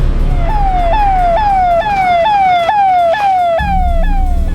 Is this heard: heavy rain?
no